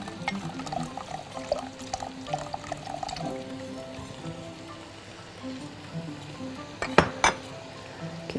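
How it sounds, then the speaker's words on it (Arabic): Béchamel sauce is stirred in a pot, with a utensil scraping and clinking against the metal, wet sloshing and bubbling in between, and a couple of sharper knocks near the end. "وهنا نقلب البشاميل بتاعنا، مش عايزين بقى اي كلكع خالص"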